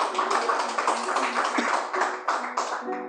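A church congregation claps together in a dense, fast patter of hand claps lasting a few seconds, with voices and a sustained tone mixed in beneath the applause.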